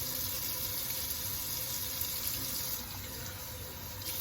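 Tap water flows into a sink over seafood being rinsed, shrimp, fish or oysters, a steady close rush that eases slightly near the end, with no voices.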